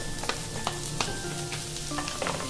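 Onions frying in a pan for a vegetable Manchurian gravy, giving a continuous close sizzle broken by regular scraping stirs about every half second.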